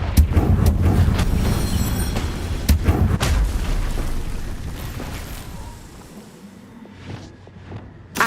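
Confringo explosion spell in Hogwarts Legacy, a heavy booming blast with a rumbling low roar that slowly decays over several seconds before a small final pop.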